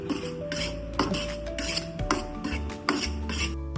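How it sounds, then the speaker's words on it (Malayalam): A metal spoon scrapes and clinks around a pan in steady repeated strokes while ragi flour dry-roasts, close up, with no talking. "ഈ റാഗിപ്പൊടി ആദ്യം വറുക്കണം. അപ്പോൾ റാഗിപ്പൊടി ആദ്യം നല്ലോണം വറക്കണം."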